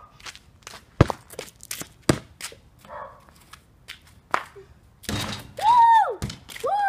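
A basketball thuds and bounces during an over-the-hoop trick shot, with scattered sharp knocks and footsteps, then a loud squeaking near the end.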